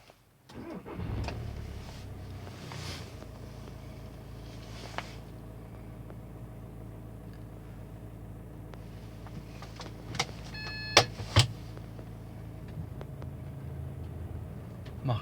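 A 2009 Volkswagen Touran with 230,000 km and a faulty DSG7 gearbox cranks and starts, then idles quietly and steadily, with a few sharp clicks and brief whirs from inside the cabin.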